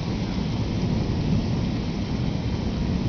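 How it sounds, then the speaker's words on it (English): Steady, dense rain pours down during a storm while low thunder rumbles continuously underneath, with no voices. "Yeah, it's raining."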